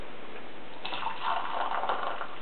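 Freshly boiled water from a kettle pours into a big cup while shave lather is being prepared, a close, steady splashing stream lasting under two seconds with no talking.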